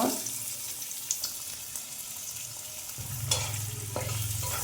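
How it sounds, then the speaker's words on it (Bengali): Chopped onions go into hot oil and fry, a steady background hiss that swells into a louder, fuller sizzle partway through, with a few light clinks; no one talks. "তেল দিয়েছি আমি পেঁয়াজ কুচানোগুলো দিয়ে দিব"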